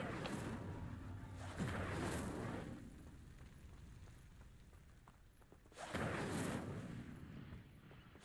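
An Incendio fire spell cast in the game Hogwarts Legacy, heard as low rumbling whooshes and bursts of flame that swell twice, once early and again later, over a continuous low roar.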